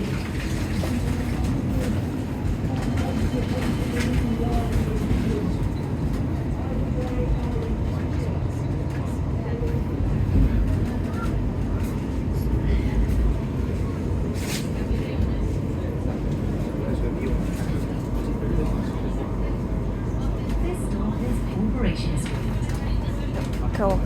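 A Birmingham tram rolls between stops with a constant low rumble and rattling hum. People talk close by over the running noise.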